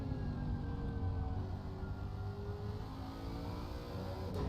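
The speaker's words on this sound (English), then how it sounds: "Car sounds amazing. The Lexus does have a nice engine." Lexus GT race car engine in Assetto Corsa Competizione during an endurance race at Spa, a steady loud droning roar with rising and falling revs throughout, no talk.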